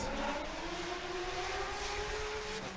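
Formula Drift battle run: a drift car's high-revving engine wails continuously, its pitch climbing in a long sustained scream at a distance, with no talk over it.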